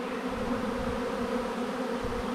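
A cluster of honeybees from a captured swarm buzzes on a branch, beating their wings. The dense drone is steady and close, with no voices over it.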